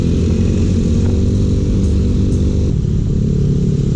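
Motorcycle fitted with a DB Killer exhaust, engine running loud and close with a steady deep drone and only slight rises in revs throughout.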